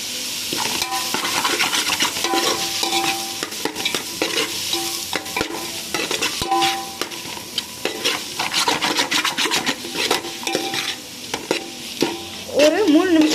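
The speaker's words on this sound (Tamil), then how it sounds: "ஒரு 3 நிமிஷம் நல்லா வதக்கி விடணும்." Onions and masala being stirred and sautéed in a pan for kalan dum biryani, giving constant close sizzling with frequent scraping and clinking of a spoon on metal over a long stretch.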